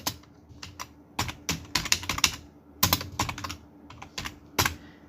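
Fingers tap on a computer keyboard in uneven bursts of crisp, close keystrokes with short pauses between words, alone in a quiet room.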